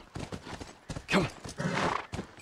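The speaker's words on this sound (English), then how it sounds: "the horse will actually push itself back" Horse hooves clip-clop and the horse whinnies in The Last of Us video game, a quick run of hoofbeats followed by a loud neigh close by.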